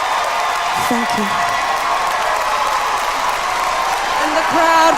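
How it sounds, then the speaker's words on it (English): A television talent show crowd applauds and cheers in a broad, continuous roar that holds steady throughout, with voices and shouts mixed into the applause. "And the crowd goes wild."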